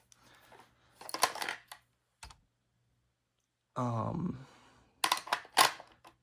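The bolt of a 1916 J.P. Sauer Gewehr 98 Mauser rifle sliding and clicking out of the action, several sharp metallic clicks and a scraping slide, close up and otherwise quiet between the sounds.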